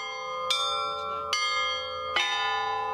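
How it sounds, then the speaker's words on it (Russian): Church bells ring from a mobile bell tower as Tikhvin church bell ringers lead a festive religious procession through Bryansk streets. Three loud, resonant strikes sound at even intervals, each leaving a long shimmering ring that overlaps the next. "Звонари Тихвинского храма заливают улицы праздничным перезвоном"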